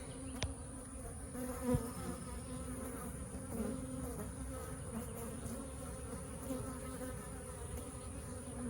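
A steady, dense buzzing of many honey bees close by, continuous and even throughout, with no voices.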